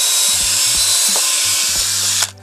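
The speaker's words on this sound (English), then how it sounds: "get our drill with our drill bit on it." A power drill whirs in short bursts, its motor pitch rising and falling as it bites into wood, loud and close, then stops abruptly.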